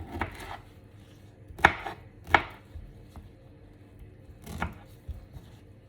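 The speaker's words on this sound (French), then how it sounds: "nous allons couper notre ananas en petits morceaux" Pineapple being chopped into small pieces, a few distinct knife strikes on a cutting board with two sharp louder thuds and softer taps between, close up in a quiet room.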